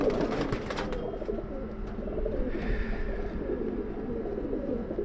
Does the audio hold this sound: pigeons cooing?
yes